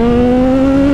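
A Honda CB 1000R motorcycle revving hard under acceleration, its loud, close engine note rising steadily in pitch through a quickshifter upshift, with no talk over it.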